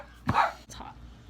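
A dog gives a single short bark at middle distance, followed by a fainter yip in an indoor room with faint background noise.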